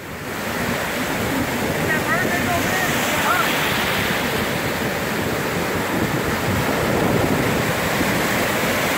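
Ocean surf at Long Beach rolls in as a constant loud wash of breaking waves mixed with wind buffeting the microphone, and faint voices come through underneath.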